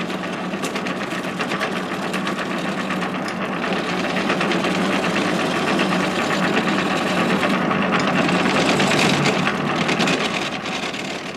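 A wood lathe turns delicate spindles for horse-drawn gigs as chisels shape the wood, giving a loud, steady mechanical whirr with a scraping edge that holds evenly for the whole stretch.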